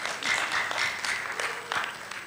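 A conference audience applauding, a short burst of clapping from a crowd in a hall, steady and moderately loud for a couple of seconds.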